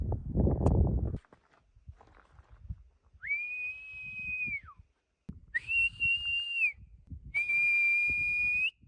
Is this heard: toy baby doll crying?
no